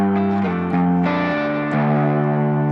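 Electric guitar through a Boss GT-1000 processor with reverb and distortion, sustained distorted notes changing pitch in steps, each tail washing into a lingering reverberant decay, loud and steady with no talking.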